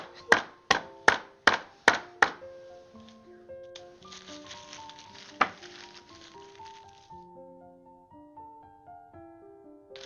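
A hammer is struck six times in quick, loud succession in a home kitchen during brownie baking, followed by a single later blow, with sharp ringing impacts and a soft tonal hum lingering underneath.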